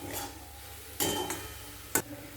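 A spatula scrapes and stirs scrambled egg with chopped coriander in a pan over a faint sizzle, with a few sharper clinks against the metal.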